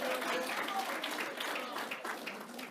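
A crowd claps steadily throughout, a warm patter of many hands that fades slightly toward the end, with a voice briefly heard at the start.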